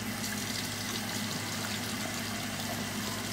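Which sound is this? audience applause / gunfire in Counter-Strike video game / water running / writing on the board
water running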